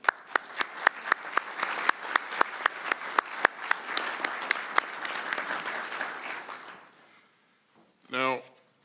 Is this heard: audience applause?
yes